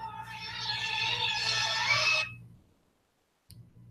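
A mobile phone ringtone plays loudly for about two seconds with a bright melodic tone over a low hum, then cuts off into near silence.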